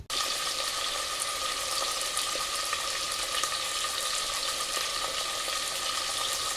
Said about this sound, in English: so now we're cooking the calamari and the prawns, right?